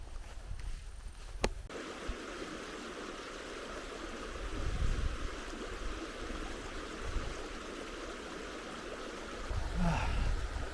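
River flowing on a winter solo hike in semi-alpine country, a soft continuous rush of water with a sharp knock near the start and a gentle swell of louder flow.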